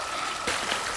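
Lit Creek flows in a steady, broad rushing wash of water close by, with a soft splash or gurgle partway through and no voices.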